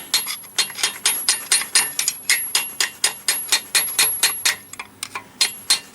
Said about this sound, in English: I just like to go around and just tap that ring